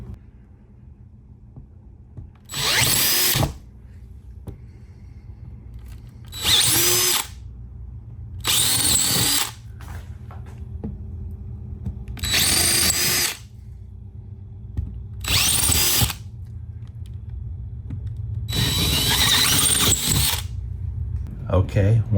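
A power drill whirs in six short bursts of a second or so each while drilling a hole for a MOLLE panel, separated by quieter pauses with low room hum and faint handling noise.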